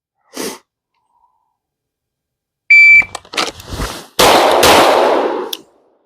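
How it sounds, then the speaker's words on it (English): During a cold-weather training session, a shot-timer beep sounds, then two loud, close handgun shots are fired after drawing from the holster, each followed by a short ring-off in otherwise quiet surroundings. "2 shots from the holster."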